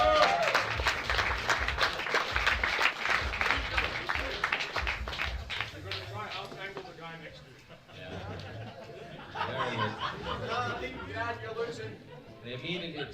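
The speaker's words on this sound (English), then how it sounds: "a round of applause for these guys." An audience at a powerlifting meet gives the lifters loud, sustained applause mixed with cheering and crowd chatter. The applause dips briefly midway, then swells again before fading.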